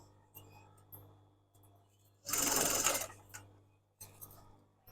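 Sewing machine stitching the lining of a crochet bag beneath the overlocking: a single close, steady mechanical whir lasting under a second, surrounded by quieter handling taps and small clicks.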